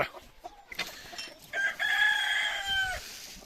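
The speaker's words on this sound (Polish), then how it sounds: "ty jesteś najgłośniejszym ze wszystkich kogutów, jakie miałem" A rooster crows loudly and close by, one long drawn-out call rising and holding before trailing off, with a few softer clucks just before it.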